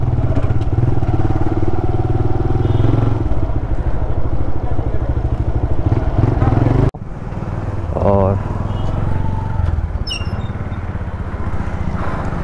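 A new TVS Raider BS6 motorcycle engine idles loudly and steadily at a showroom, then cuts to a quieter rumble with a few people speaking nearby.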